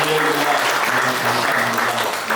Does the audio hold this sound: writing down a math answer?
no